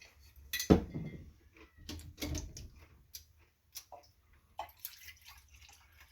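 Water poured into a cup while making an MRE drink mix, a short close splash followed by intermittent clinks, taps and handling noises of the cup and packaging.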